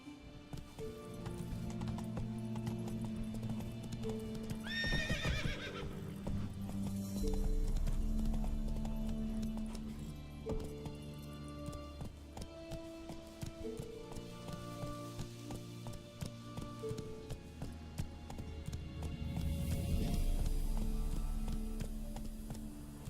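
Horse hooves clip-clopping at a gallop in The Witcher 3 video game, steady and close under game music, with a brief neigh around the middle.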